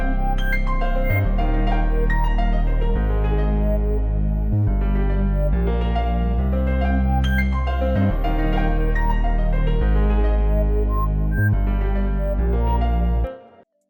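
Melodic layers of a hip-hop beat, a sustained synth pad together with a deep Reese bass, playing a looping chord progression with an octave jump, steady and full, no voices.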